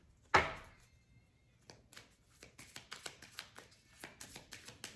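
Tarot cards are shuffled for a card reading, a quick run of soft, close riffling taps and slaps after a single louder knock.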